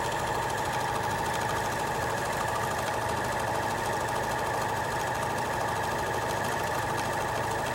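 Sewing machine running a plain, uncorded decorative stitch at unchanged stitch length, a loud continuous mechanical whir with a steady rapid rhythm throughout, no voices.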